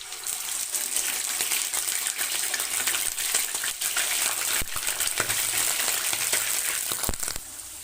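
A kilogram of chicken sizzles in hot ghee, a dense and steady frying hiss with occasional clinks and bumps from the pan, with no voices.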